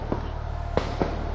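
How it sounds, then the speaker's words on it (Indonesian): Sharp cracks of tear gas launcher shots or blasts ring out at a street protest in Jakarta, several short bangs spaced unevenly over a humming background. "terdengar suara dari ledakan atau tembakan gas air mata"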